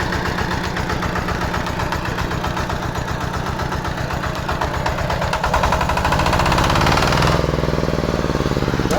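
A walk-behind tractor (motoblock) engine runs close by with a steady rapid putter, growing louder and rougher partway through as it revs up, with no talking.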